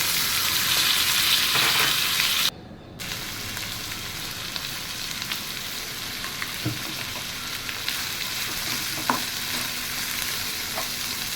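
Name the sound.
cluster beans with curry leaves and salt being stirred in a pan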